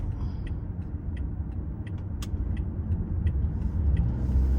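A car driving along a road toward a park on back roads in the morning, with a steady low engine and tyre rumble that swells slightly near the end and faint ticks over the top.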